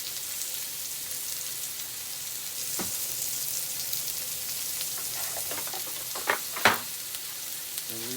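Onions frying in butter on a hot griddle, a steady close sizzle throughout with a few sharper pops and crackles near the end.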